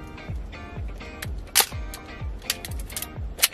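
The film advance lever of a Canon EF SLR camera with a Copal Square shutter is wound in quick repeated strokes, giving close, crisp ratcheting clicks and soft mechanical whirs in a quiet room.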